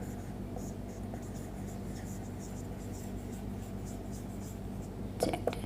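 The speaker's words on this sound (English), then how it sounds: "So let me write down that for you" Quiet scratching of someone writing on a board in a classroom, faint and steady under a low background hum, with a brief louder knock near the end.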